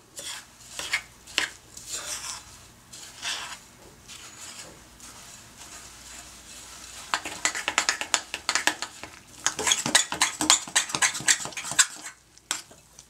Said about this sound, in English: and then mix well